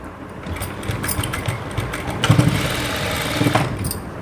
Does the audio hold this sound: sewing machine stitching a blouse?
yes